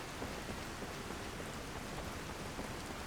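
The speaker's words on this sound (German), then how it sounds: "Im Regen zu rennen, um nicht so nass zu werden." Steady rain falls in the video game Skyrim, a dense, even hiss of drops with no pauses, heard alone and fairly faint.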